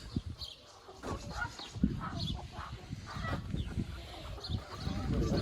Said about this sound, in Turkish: kazlar geldi, tavuklar geldi